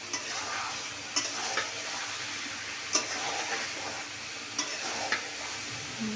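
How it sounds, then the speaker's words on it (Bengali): Olive pickle cooks in oil in a pan as a utensil stirs it, giving a steady close sizzle broken by a few sharp scraping taps against the pan, with no talking. "ভালো করে নেড়ে দিলাম, একটু পরপর নাড়াচাড়া দিতে হবে,"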